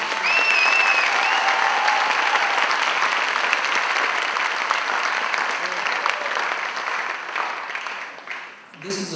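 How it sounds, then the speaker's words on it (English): Sustained applause from a graduation audience for the Class of 2015 at the Creative Arts Morgan Village Academy in Camden, a dense steady wash of clapping across the whole span that thins slightly near the end, with a brief whistle early on. "let's give the class of 2015 another huge round of applause"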